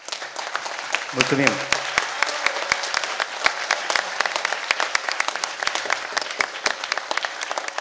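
Audience applause closes a Romanian traditional carol and folk customs concert, loud rhythmic clapping that sometimes falls into unison beats, while a brief sung or spoken phrase rises near the start.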